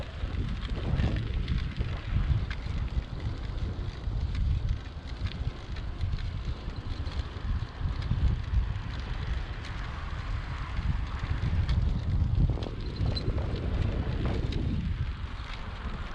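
Heavy wind buffeting the microphone while riding a bicycle, a rough, gusting rumble that swells and eases throughout.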